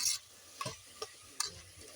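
Fried chicken being sautéed in a pressure cooker: a faint sizzle under a few sharp scraping stirs of a spoon against the pot, quiet and close.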